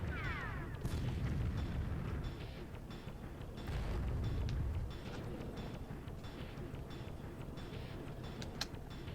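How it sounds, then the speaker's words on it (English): Tank cannon fire in the video game BattleTanx: heavy booming blasts and rumbling explosions, with one loud burst near the start and another a few seconds later, over continuous low battle noise and mechanical rumble. "Somebody's shooting me from over there."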